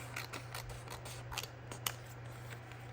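Scissors cutting paper during a planner setup: several soft, close snips spread over a few seconds above a steady low electrical hum, with no talking.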